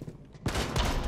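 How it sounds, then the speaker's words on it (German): A gunshot fired through a wall in the video game Rainbow Six Siege bursts in suddenly after a quiet moment, giving a loud, dense crack of gunfire that carries on as a sustained, noisy blast. "ich hab einfach durch die Wand so einen Schuss abgegeben"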